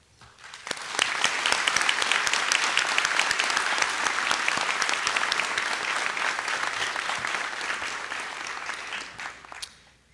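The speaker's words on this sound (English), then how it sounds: "So if we all could give a round of applause to the teachers." A large crowd applauds teachers at a high school graduation ceremony, dense sustained clapping lasting about nine seconds at steady volume before tapering off.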